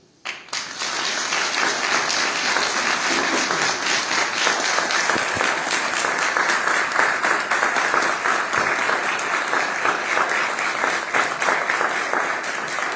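Audience applause for a singer at a guarania concert in Estremoz, Portugal, starting abruptly and continuing as loud, sustained, evenly dense clapping from a sizable crowd.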